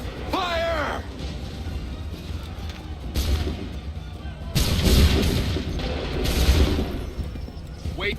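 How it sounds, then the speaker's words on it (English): Cannon and musket volley fire in the Assassin's Creed III Remastered video game: heavy booming blasts and crackling gunfire in bursts, with shouted commands at the start. "Open fire. Prepare yourselves. Fire!"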